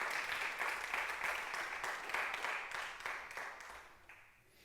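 Church congregation applauding during a Sunday service, a steady patter of many hands at moderate volume that gradually thins and fades toward the end.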